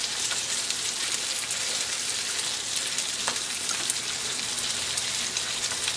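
Prawns sizzle with garlic in a hot pan, a loud, steady crackling fry with dense spitting pops that runs without a break.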